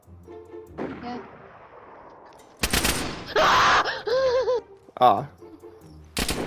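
Gunfire in DayZ, a game, arrives as a few loud, abrupt blasts spaced a second or so apart, mixed with a player's gasps and groans.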